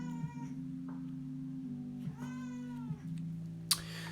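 A house cat meows a few times, drawn-out and tonal, close by, over a steady low electrical hum in a room where dice are being made.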